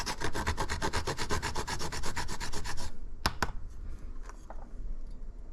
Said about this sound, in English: Freshly grated nutmeg, I always love that. This is a lovely nutmeg grater.